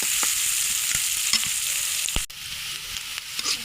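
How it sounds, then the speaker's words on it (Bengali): Onions sizzle in a hot pan, a steady crackling hiss with occasional scraping stirs and a sharp clatter midway. "পেঁয়াজটা আমরা একটু ভাজা করে নেব"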